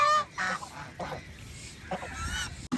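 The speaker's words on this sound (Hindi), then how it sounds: "वो आ गई बत्तखें" Honking, goose-like calls from ducks arriving at a petting zoo, loud and near, repeated over a few seconds amid background noise.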